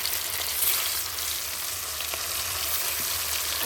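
Large fish pieces frying in hot oil in a wok, a close, steady sizzle with bright crackle and a few soft stirring knocks, no voices.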